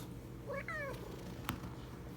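A single short cat meow rises over a soft, steady purring in the background, then a brief click follows.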